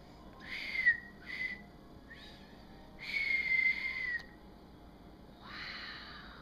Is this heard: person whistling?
yes